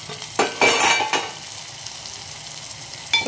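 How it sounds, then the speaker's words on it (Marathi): Tomatoes with green chili and garlic being stirred in a frying pan, a few scraping strokes near the start and end over a steady low sizzle, with no talking. "छान मिक्स करून घ्यायचं आणि गॅस कमी करून 1 ते 2 मिनिट आपल्याला ह्याला झाकून चांगले टोमॅटो नरम होऊ द्यायचे"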